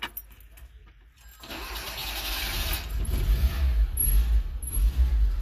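Fiat X1/9 engine cranking and restarting after a stall, quiet at first, then catching and settling into a steady, close mid-pitched idle rumble.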